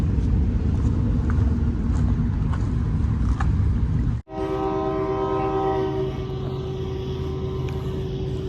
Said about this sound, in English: this train's coming up behind me. It's so loud